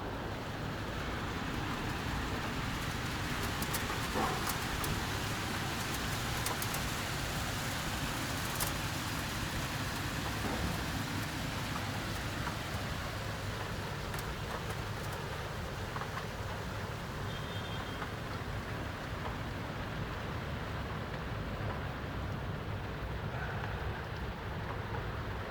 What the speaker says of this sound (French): j'ai commencé avec la pluie et je vais finir avec la pluie